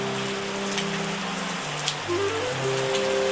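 Rain falling in the wine-making game Terroir: a steady, dense hiss of rainfall, loud and continuous, with a faint tonal game sound gliding underneath and no talk.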